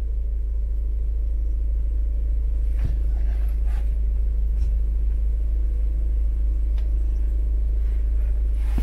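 A chipped Volkswagen Polo GTS in sport mode with sport gearbox setting, steady loud engine rumble from inside the car during a 0 to 100 run, continuous low drone throughout with no talk.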